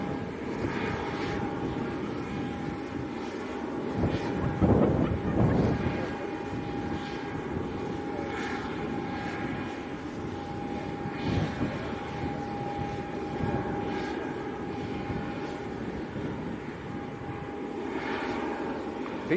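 A fixed-wing aircraft departs an airport heading back to Luton, its engine roar loud and continuous throughout with a few swells, and voices faintly present in the background.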